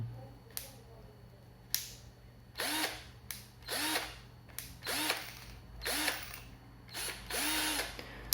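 An RZTK 1220Li cordless drill runs at first speed in short bursts, about seven brief whirring spins with clicks between them, close and fairly quiet in a still room.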